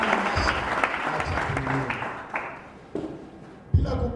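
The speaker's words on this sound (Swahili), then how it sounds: "Chapia tena isi makofi ya furaha." A church congregation claps in joy, a dense close patter of hands with a few louder strikes standing out, while a voice rises over it near the end.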